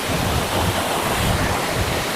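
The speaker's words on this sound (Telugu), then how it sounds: "గాలి అయితే చాలా వస్తుంది" Strong wind at a large waterfall pounds the microphone in heavy rumbling gusts over a steady roar of falling water, loud and close, with no voices.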